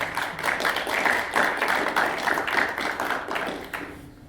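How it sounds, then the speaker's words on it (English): Audience applause at the close of a talk on building network connections, a dense, steady patter of many hands clapping that fades out near the end, with no voices over it. "Now applause."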